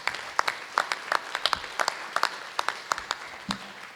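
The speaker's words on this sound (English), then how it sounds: "Round of applause again." Scattered applause from a small group at a Board of Education meeting, with distinct individual claps popping out at an uneven rhythm, moderately close, with a faint low thump near the end.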